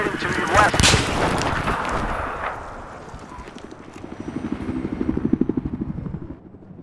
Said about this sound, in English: I have positive ID on a hostile helicopter operating to the west.